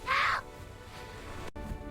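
A single harsh bird call rings out briefly at the start, followed by quiet background and a faint click.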